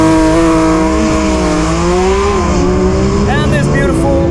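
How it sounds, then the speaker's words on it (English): A Porsche GT3 RS with a 4-liter naturally aspirated boxer engine accelerates hard, its loud, close engine note climbing in pitch and easing briefly between gear changes, with a voice faintly underneath. "this beautiful 4-liter naturally aspirated boxer engine sounds as good as always"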